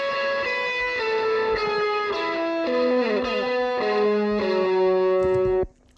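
An electric guitar solo plays sustained, bending lead notes, layered as one dry part and one wetter part with reverb and a little slapback delay, steady and prominent, ending abruptly near the close.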